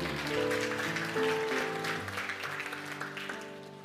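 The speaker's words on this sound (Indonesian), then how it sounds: "Puji Tuhan, tepuk tangan." A church congregation claps together over sustained keyboard or organ chords, the applause steady and fairly close for about four seconds before gradually thinning out.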